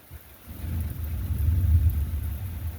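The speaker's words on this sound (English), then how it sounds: "I hear thunder." Thunder rolls during heavy rain outdoors by a chicken run, a deep low rumble that swells after the first half second and stays steady and fairly loud over a faint rain hiss, with no talk.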